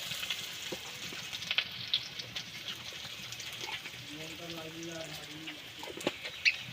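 Onions fry in oil in a village kitchen, making a steady low sizzle under a person talking, with birds calling faintly in the background.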